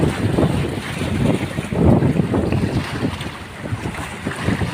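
Strong wind buffets the microphone in gusty, rumbling surges while fishing on a bridge at Subic Bay, Philippines, with a hint of water sloshing nearby and no talking.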